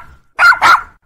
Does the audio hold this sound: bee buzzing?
no